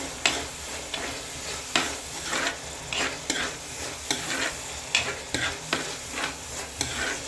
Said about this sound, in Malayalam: കുറച്ച് ഇടിച്ച മുളക് നമ്മൾ അതിലേക്ക് ഇട്ട് കൊടുക്കുക എന്നിട്ട് അത് ഒന്നും കൂടി ഇളക്കി കൊടുക്കുക